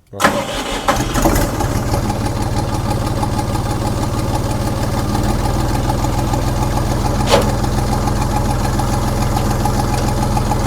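A Fighter TU 254 tractor engine cranks and catches, then settles into a loud, steady idle with a low knocking rumble that continues throughout, with a faint click partway through.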